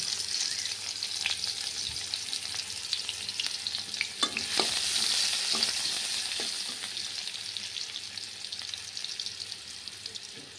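Chopped onions frying in hot oil for a spicy tengra fish dish, giving a steady mid-level sizzle with a few sharp crackles and stir scrapes near the start, settling into a constant hiss with no talking.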